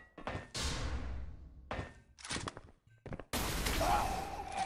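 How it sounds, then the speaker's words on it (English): Gunshots from an arena shooter match in the video game Xonotic, a handful of sharp separate bangs with gaps between them, the last one a longer loud burst, with a voice briefly audible. "That was a good shot from the bot."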